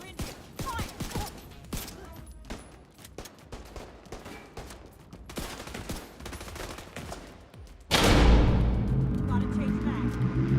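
Rapid gunfire in a first-person shooter: repeated sharp shots crack out in quick irregular bursts, then a louder, sustained roar of heavy fire and rumble takes over near the end, with game voices talking over the action.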